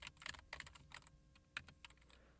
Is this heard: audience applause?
no